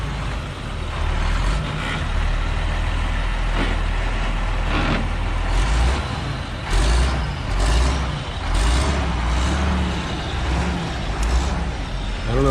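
A truck engine drones steadily and loudly as it is driven along a winding road on a long haul, with a low rumble and broad road roar throughout and slight swells in the noise.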